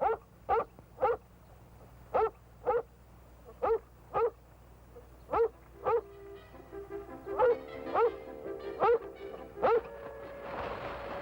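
A dog barks repeatedly in short, sharp yaps spaced about half a second to a second apart, moderately close, with faint background sound.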